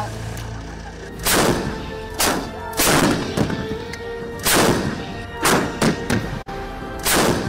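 Indian Army artillery guns fire at the Pokhran range in a series of heavy booms about one to two seconds apart, each loud and sharp, over constant background noise.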